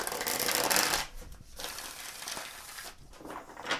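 Cards are shuffled up close in a long rustling burst, then softer scattered swishes and taps follow, with no voices.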